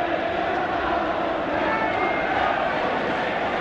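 Arsenal football crowd at a 1971 FA Cup match against Liverpool, a dense, steady roar of cheering voices that fills the whole stretch without pause.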